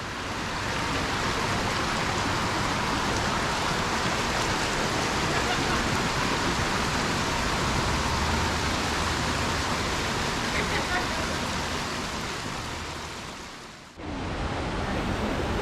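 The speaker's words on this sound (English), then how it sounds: "there's the Massive Waterfalls right there" Massive rainforest waterfalls in Veracruz, Mexico, giving a steady, loud broadband roar of falling water that holds nearly unchanged, with a brief dip near the end.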